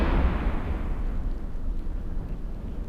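Deep rumbling boom of ship weapons fire and an explosion in the EVE Echoes space game, a heavy low blast that fades into a sustained roar, loud and alone.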